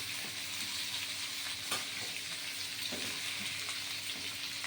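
Papaya and sweet pumpkin pieces frying and being stirred in a pan for a vegetarian drumstick curry, with a steady oily sizzle and occasional scrapes and clinks of the spoon against the pan, no talking.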